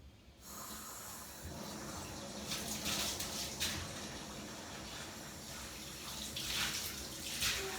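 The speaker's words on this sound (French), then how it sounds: "vous mettez de l'eau tiède" Lukewarm water runs into a bathtub in a steady, soft, close hiss that swells slightly in places, with no voices.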